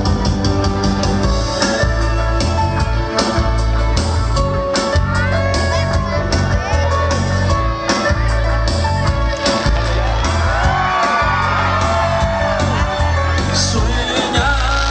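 A large outdoor crowd of thousands shouts, whoops and cheers continuously at a town-plaza Christmas tree lighting, loud and dense throughout, with music and scattered voices layered underneath.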